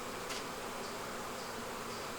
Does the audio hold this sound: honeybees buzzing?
yes